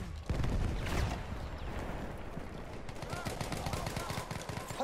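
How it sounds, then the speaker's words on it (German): Machine gun fire in Battlefield 1 multiplayer rattles in steady dense bursts across the battlefield, with a voice shouting over the shooting. "Ein Maschinengewehr!"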